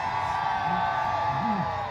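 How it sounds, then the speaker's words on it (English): A crowd of spectators at the Toronto Santa Claus Parade whoops and cheers, a continuous wash of voices with a couple of rising shouts standing out above the din. "This is a big cheering crowd over here. Listen to them."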